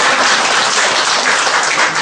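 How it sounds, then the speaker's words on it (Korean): A congregation at a church prayer meeting claps along during worship, producing a loud, dense, continuous wash of hand claps from start to finish. "우리 박수 치면서 함께 찬양합니다."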